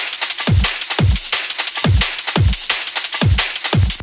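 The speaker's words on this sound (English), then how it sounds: "We've copied in 2 kicks as the layers over the top of our break" A drum break loop layered with two extra kick drums hits in a steady, punchy rhythm. Boomy low kicks land about twice per second under a dense, bright wash of breakbeat percussion, loud and close with no talking.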